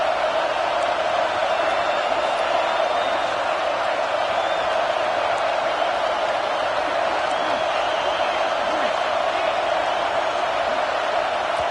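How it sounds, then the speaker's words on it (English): Football stadium crowd at an Ohio State versus Michigan game, a dense continuous roar from full-throated fans, sustained and unbroken, heard from within the stands. "This crowd, full throat, spreading the eardrums and letting them know it's going to be a long,"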